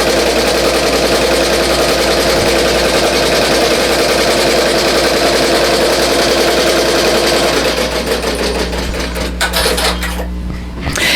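A BAI Mirror 1501 embroidery machine stitches a design onto a T-shirt, its needle drive a loud, steady rapid mechanical chatter running throughout, thinning slightly toward the end.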